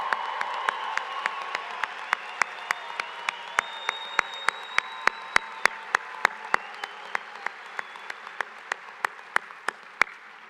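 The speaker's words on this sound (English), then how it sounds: "Audience, I think our graduates deserve a really loud round of applause." A commencement audience applauds the graduates at a college ceremony, sustained steady clapping from a large hall crowd, with sharp nearby hand claps standing out in a regular rhythm and a faint cheer.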